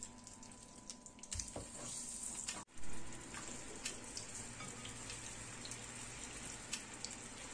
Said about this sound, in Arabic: Et je fais revenir la viande.